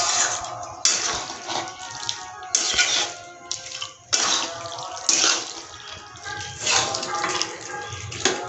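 Hot water poured into a pan of cooking mutton, splashing and gushing in several bursts with sizzling between pours, close and moderately loud.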